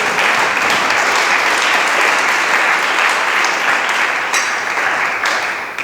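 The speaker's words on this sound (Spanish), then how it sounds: "Dele palmas al Señor." Sustained applause from a crowd, dense and steady throughout, fading slightly at the end.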